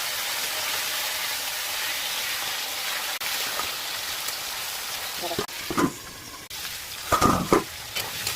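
Pointed gourd and shrimp fry with salt in a pan, a steady sizzle with occasional scraping stirs and clinks growing louder near the end while someone speaks over it.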